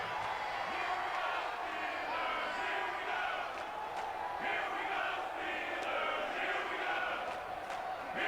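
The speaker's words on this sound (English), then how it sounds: "the crowd getting into it as we come up on a big 3rd down" A stadium crowd roars continuously in the Madden 20 football game ahead of a big third down between the Chargers and Steelers, a broad sustained cheer swelling at times, with a commentator talking over it.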